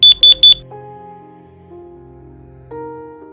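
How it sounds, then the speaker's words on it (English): An anti-tamper care alarm gives three quick high-pitched electronic beeps in close succession, then softer, lower sustained tones that shift in pitch. "Release the suspend button when you hear the desired number of beeps."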